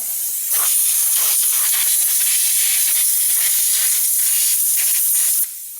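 Compressed air blasts steadily around an ALH TDI diesel injector to clear built-up dirt, a loud, continuous, close hiss lasting several seconds before cutting off.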